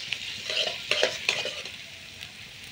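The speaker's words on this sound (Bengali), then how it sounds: "পেঁয়াজ আর রসুন কিন্তু লাল লাল করে ভেজে" Chopped onion and garlic sizzle in a hot pan while being stirred, with a spoon scraping and clinking against the pan in short bursts over a steady frying hiss; no one speaks.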